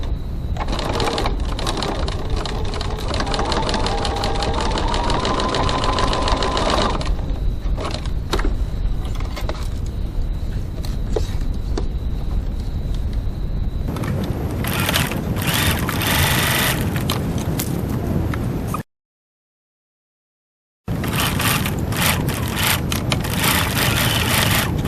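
Sewing machine stitching the seams of a crossbody bag with a 2.4 stitch length and 1 cm seam allowance; steady, close mechanical whirring in long runs with rattling pauses and a short silent break.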